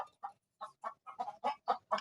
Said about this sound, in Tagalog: Kakainis kung may manok.